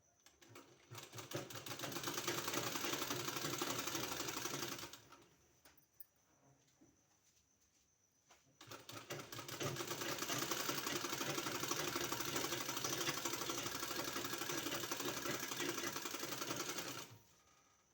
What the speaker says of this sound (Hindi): इसको हमको इस तरह से सिलाई लगा के बंद कर लेना है।